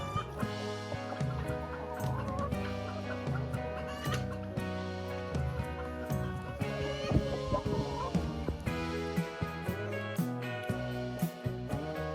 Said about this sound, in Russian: В вольере сидят цыплята.